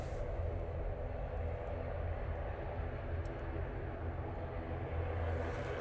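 A TUI airliner bound for Hurghada roars down the runway on takeoff from Manchester Airport, a steady broad jet rumble heard from a distance with no talking.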